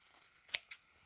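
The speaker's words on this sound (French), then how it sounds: "Donc maintenant la parementure, on coupe" Scissors snip through a garment's fabric facing in a sewing workshop, giving two quick crisp cuts close by, the first louder than the second, with no talking.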